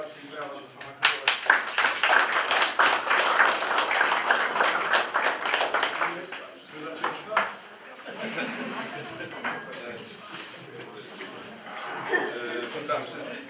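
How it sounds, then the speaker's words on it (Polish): Applause at a Polish village honours ceremony for a sports achievement, with clapping most dense for the first half, then thinning into scattered claps and voices in the room. "Serdeczne gratulacje i brawa do pana kolegi."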